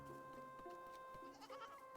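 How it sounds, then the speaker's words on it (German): Goats in a farming video game bleat in a short, faint burst of two or three cries, thin and tonal over a quiet game soundtrack hum. "Ganz viele Ziegen und Hühner."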